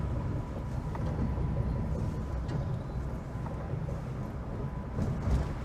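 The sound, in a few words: 1976 Peugeot 204 driving, possible front-right wheel bearing noise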